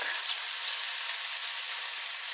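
Chanterelle mushrooms fry in a hot pan, a steady, close sizzle with a dense crackling hiss that holds evenly throughout, no voices.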